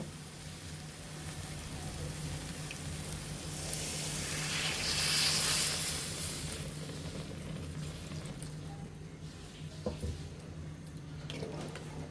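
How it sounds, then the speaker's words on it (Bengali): Water poured into a pan of fried soybeans cooking for a Bengali curry, giving a sizzling hiss that swells loudly in the middle and then settles into a steady simmer. "এখন আমরা জল দিয়ে দিব"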